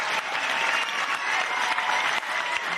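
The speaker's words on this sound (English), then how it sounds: "Give them all a round of applause, yeah." A live comedy audience gives a round of applause for new stand-up contestants at a comedy talent final, a continuous thick wash of clapping at full volume from start to finish.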